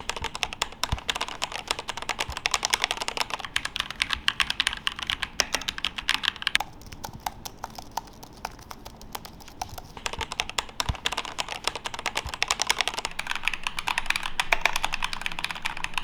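Steady typing on a mechanical keyboard with TDC pink key switches, rapid close clicks that run continuously for about sixteen seconds with a brief lighter patch midway, no voices.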